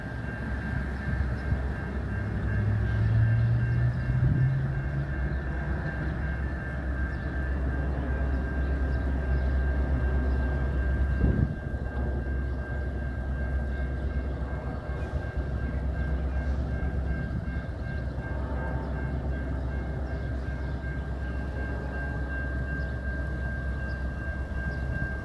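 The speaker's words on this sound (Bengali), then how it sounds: "ওই যে ট্রেনটি আসছে।" A local train passes a road-gate railway crossing at Prospect Heights with a continuous loud rumble and clatter that holds steady for the whole stretch, a sustained tone running beneath it.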